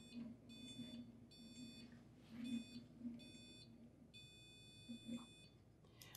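A data sensor sounds a series of short, clear electronic beeps, about six of them at uneven intervals, each marking one wheel rotation. They ring over a soft, steady background hum in a quiet room with no talk.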